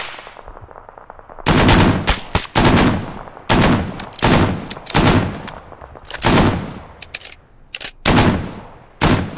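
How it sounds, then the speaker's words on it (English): Machine gun fired from above in a video game, in short loud bursts separated by brief gaps, each burst a rapid stream of close, punchy shots with little else around them. "It's a machine gun."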